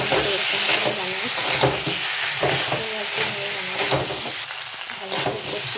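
A paste of ginger, cumin, garlic and onion fries loudly in a pan for an egg and potato curry, with a dense hissing sizzle and rhythmic stirring strokes throughout, close up and without voices.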